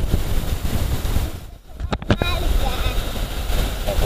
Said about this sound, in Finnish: Tää on meri.